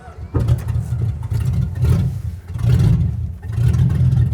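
A 1975 Mopar 360 V8 in a Jeep CJ runs with a loud, rumbling low-end roar that swells in repeated surges, close by, with no one speaking.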